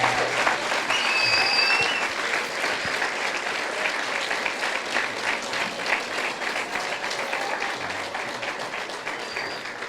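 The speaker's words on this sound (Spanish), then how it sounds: "le den un fuerte aplauso al Señor" A large crowd claps loudly and continuously, a thick wash of hands that holds steady throughout with a few faint cheers on top.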